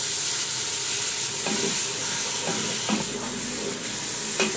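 Water hits a hot pan of tomatoes for kaddu dal and sets off a loud, steady sizzling hiss, with occasional clinks of a spoon stirring.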